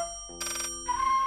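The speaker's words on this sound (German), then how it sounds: "als das Telefon klingelt" An electronic telephone ringtone sounds loudly and close, a short burst of bright, warbling tones that shift in pitch partway through, with no speech.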